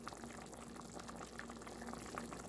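Beef stew boils in a pot, giving a faint, steady, even bubbling that carries on throughout.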